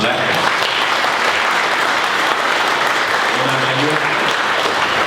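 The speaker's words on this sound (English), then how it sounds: "Give them a round of applause for that." An audience gives a round of applause at an A-League football awards panel, dense steady clapping filling the whole stretch.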